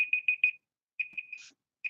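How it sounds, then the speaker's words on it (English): Countdown timer alarm at an antique book auction, a clear electronic beeping in quick pulsed groups, several rapid beeps, then a pause and another burst, fairly close and alone. "I hate this timer."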